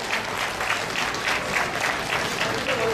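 Crowd applause at the finish of the Bałtyk–Karkonosze cycling race in Żary: steady, dense clapping throughout, loud and close, with a faint commentator voice beneath.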